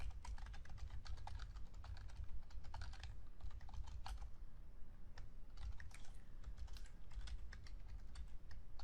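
Steady rapid clicking of typing on a computer keyboard while entering code, with uneven bursts of keystrokes and short pauses, close but fairly quiet over a faint background hiss.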